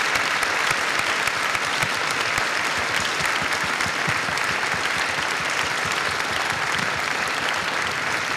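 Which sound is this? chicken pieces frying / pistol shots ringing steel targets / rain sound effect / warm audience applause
warm audience applause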